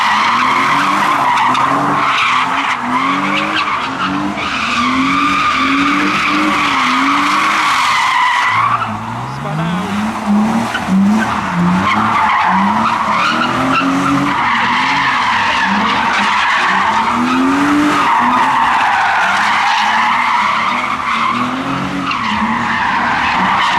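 Modified cars drift around a roundabout at a busy night car meet in Basingstoke, with repeated long tire squeals and screeches rising and falling over loud, revving engines, sustained and close throughout.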